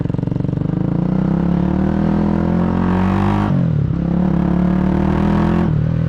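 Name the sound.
1986 Honda GB250 Clubman motorcycle engine running, aftermarket exhaust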